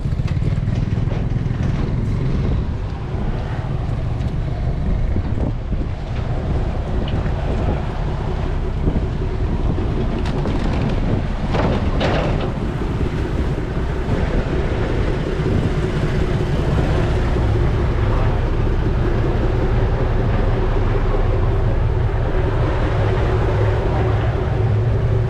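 Steady ride aboard a boat in Thailand, with a constant low engine drone and heavy wind rushing past the microphone throughout, loud and unbroken with no talk.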